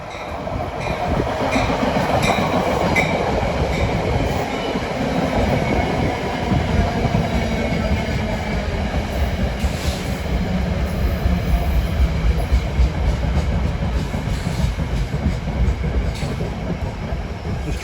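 A southbound New Jersey Transit train bound for Long Branch, hauled by ALP-45DP locomotives running in electric mode, rolls past close by as a loud, steady rumble and wheel clatter lasting the whole stretch.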